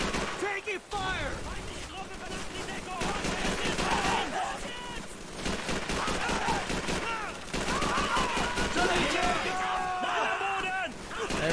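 Rapid gunfire in the World War II shooter Call of Duty 3, including MP40 submachine-gun bursts, crackles almost nonstop through a chaotic battle, with shouted voices over the dense volleys.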